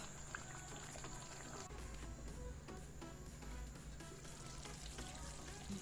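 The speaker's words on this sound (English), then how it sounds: "I'm going to be adding some diced potatoes and carrots and letting them cook until they're soft" Diced potatoes and carrots cooking in a pot of Jamaican-style curry goat, a faint, steady bubbling and soft sizzle with a low background hum and no voices.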